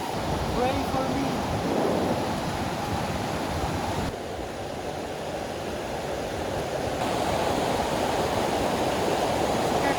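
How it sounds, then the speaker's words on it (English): Strong stream flowing near a waterfall in Sweden in autumn, a steady broad rushing roar of water, loud and continuous for the whole stretch. "It seems really strong, the flow, the stream."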